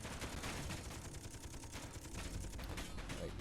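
Ship turrets firing in the Space Engineers video game, dense rapid bursts of gunfire rattling continuously at low level, with no voices over it.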